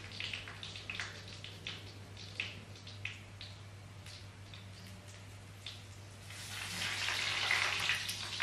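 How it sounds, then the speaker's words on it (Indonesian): Spring rolls (lumpia) frying in a pan of hot oil, a steady soft sizzle with scattered crackles and pops that swells louder and denser toward the end, no voices. "kita lagi goreng lumpianya"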